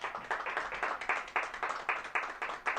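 Applause for the Lord rings out during a Spanish-language church service, a congregation clapping fairly quietly in uneven bursts for a few seconds, with no voices over it.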